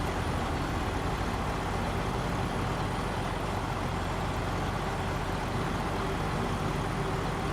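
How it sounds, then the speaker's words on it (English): A truck engine runs steadily, a dense, continuous, loud broadband roar heard from up close with no break. "The newer the truck, the louder it is."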